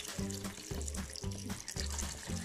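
Water poured into a cooking pan of Asian-style pork ribs, a steady near trickle and splash with faint kitchen noise and no voices.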